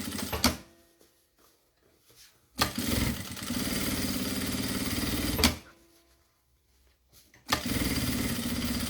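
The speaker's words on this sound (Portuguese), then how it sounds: "E vamos fazer o pesponto aqui." Sewing machine topstitching a fabric double pencil case made of Oxford cloth runs in two sustained whirring bursts of a few seconds each, separated by brief clicks and handling noises, with a short start at the end.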